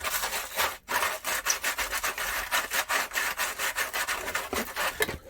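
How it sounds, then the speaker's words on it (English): Sandpaper rubbed in quick back-and-forth strokes over a Traxxas Maxx RC car body, a close, steady scratchy rasping with a brief pause near the start, no voices. "next step is the sandpaper"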